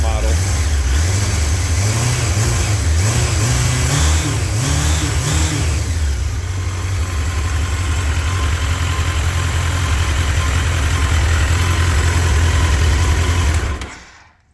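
A 1997 Suzuki GSX-R 1100 motorcycle with a big aftermarket exhaust revs loudly and close, with several rising and falling throttle blips, then settles into a rough steady idle before cutting off abruptly at the end.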